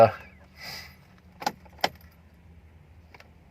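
Keys for a Dodge Ram jangle briefly near the start, followed by a couple of sharp clicks and clunks against a quiet background.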